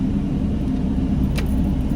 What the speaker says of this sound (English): And now your truck should be idling.